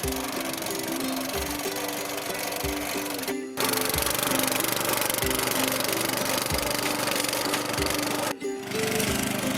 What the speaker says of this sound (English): Then old guy got the tiller out and worked up all the clods that I had created into a nice seed bed.